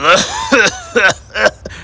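A voice imitates a sick cartoon car engine sputtering like a cough in an animated show, four close, loud hacking bursts in quick succession followed by a weaker fifth.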